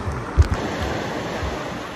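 Surf washing onto a stony island beach, a steady broadband wash with a couple of soft low thumps near the start, close and moderately loud, with wind buffeting the microphone.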